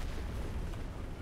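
Low, sustained booming rumble of a tank cannon shot from War Thunder tank gameplay, loud and dense across the whole short clip with no clear separate blasts.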